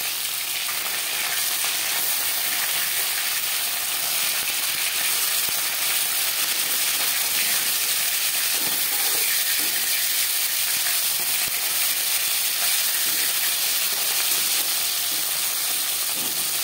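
Fish fries in a pan for a fish curry, a steady loud sizzle and crackle that runs unbroken throughout with no voices over it.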